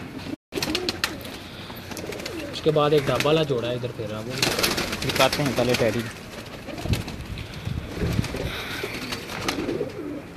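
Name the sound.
pigeons cooing on a rooftop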